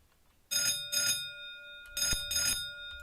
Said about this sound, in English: Love the sort of guard bell on here. Proper good old bell.